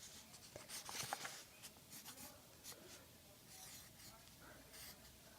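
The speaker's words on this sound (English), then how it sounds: "I'm going to write at the top," Pen or marker scratching across a Valentine's card, a steady run of light strokes close by, busier near the start and then settling into quieter scribbles.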